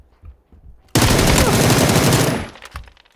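A loud, sustained burst of automatic gunfire in the PUBG video game rips out for about a second and a half after a near-silent start, then cuts off into faint background noise.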